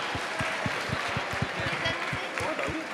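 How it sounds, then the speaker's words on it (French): Audience applauding at a gala, a sustained wash of clapping from a crowd with some individual claps standing out, continuous through the moment with a voice faintly present. "vous pouvez les applaudir très très fort"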